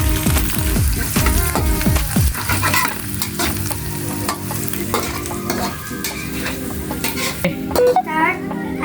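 Eggs frying in a hot pan for seafood fried rice, loud steady sizzling broken by repeated scraping and stirring of a utensil against the pan and a few metallic clinks.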